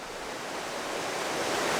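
A waterfall pours beside a natural hot spring in the wild American West, a dense, steady roar of rushing water that fills the whole short stretch without any break.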